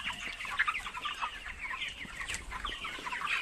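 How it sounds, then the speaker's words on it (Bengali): Poultry chickens on a farm clucking and squawking continuously, many birds overlapping at close to moderate range, with steady busy flock chatter and no talking. "পোলট্রি মুরগি ভালো করে দেখে নাও"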